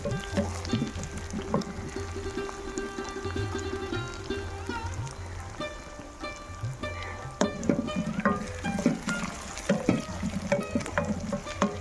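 Ingredients browning in a pan for mutter mushroom sabji, with steady sizzling and frying throughout, a spatula scraping and stirring in bursts and a few louder clinks toward the end; no one speaks.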